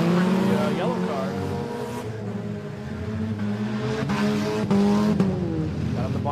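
Race cars at a Metal Mayhem event roar around the track in a steady, loud engine drone, with revs rising and falling as the cars jostle and bump each other.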